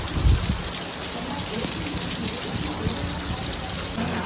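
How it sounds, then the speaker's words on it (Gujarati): Rain pours down hard and steady with a windy rush during a storm, a thump at the start, and a hint of voices beneath. "જો વાવાઝોડા સાથે વરસાદ છે."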